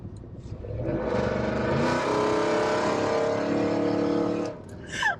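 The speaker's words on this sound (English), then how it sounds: "I want to move the exhaust so that it dumps out behind the axle, because right now it's too loud" A first-generation Ford F-150 Raptor pickup's engine drones loudly with a throaty exhaust that exits ahead of the rear axle, rising steadily as the truck accelerates while cruising, close and continuous before easing off at the end.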